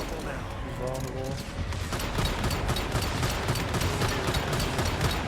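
Sustained rapid gunfire in the video game Once Human, aimed at a gargoyle enemy, a dense continuous rattle of shots that carries on loud throughout, with someone talking over the start.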